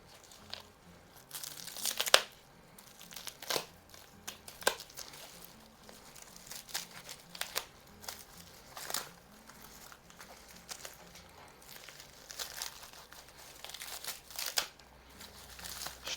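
Plastic mail packaging being cut and pulled open, irregular crinkling, rustling and snipping bursts up close, quiet between the louder crackles, with no talk.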